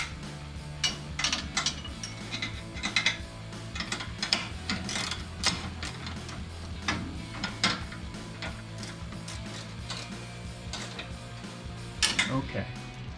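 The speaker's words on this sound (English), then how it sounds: "if I knew where I put my 1/2-inch wrench, put that on the inside" A half-inch wrench works on a Jeep Gladiator sway bar link, giving repeated metallic clicks and clanks of the ratchet and tool against parts, close by over a steady low background hum.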